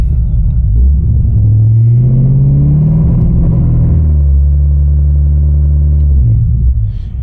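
A C5 Corvette engine with the car in gear bounces on a two-step launch limiter set at 2,800 rpm, a loud, close, steady stuttering rumble held for several seconds before dropping away, with no talking.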